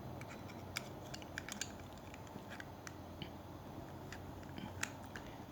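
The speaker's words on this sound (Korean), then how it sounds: "가위도 이렇게 넣을 때 여기에서 요만큼 넣으면은 요 부위에서 살짝 누르면 알아서 탁 들어가는데" Small scissors on a Victorinox Swisscard Lite 0.7300.T multitool click and tick as they are handled and seated into the card, a scatter of sharp, faint clicks over quiet background hiss.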